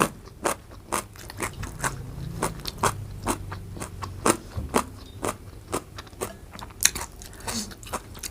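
Crunchy soaked djenkol beans (luk niang) chewed close up, eaten with olive chili paste and rice, giving a steady run of sharp crisp bites and crunches with quiet gaps, no talking.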